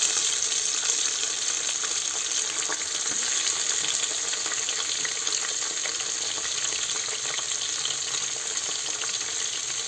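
Tomatoes added to onions frying in oil in a pan for masala rice, giving a steady, close hiss and sizzle that runs unbroken throughout with faint scraping of stirring.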